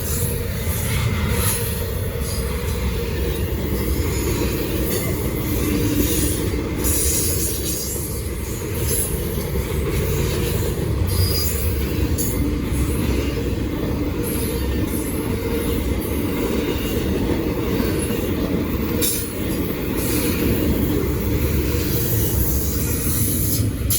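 A Norfolk Southern train passes on the Charlotte District at Gaffney, South Carolina, producing a loud, steady roar of rolling railcars and wheels for the whole stretch, with faint squeals and clicks over the rumble.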